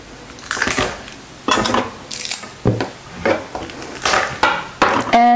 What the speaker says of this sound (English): the next thing we're going to do is to chop some garlic